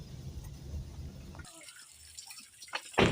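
Water runs into a rooftop water tank (tanki), a splashing, trickling flow with scattered drips, louder at first, then thinner, before a brief burst of splashing at the end; no one speaks.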